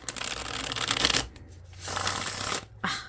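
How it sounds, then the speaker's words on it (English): A deck of tarot cards is riffle shuffled up close, giving a dense rapid fluttering burr that ends in a soft snap, then two shorter riffling bursts after brief pauses, loud and alone. "one more riffle shuffle, and then a little bit of overhand"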